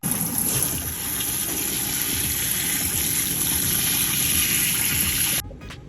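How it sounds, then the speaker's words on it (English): Water poured onto a dried-out Black Velvet Alocasia in its pot, a loud, steady close stream that runs for several seconds and then stops abruptly. "I'm just gonna water it."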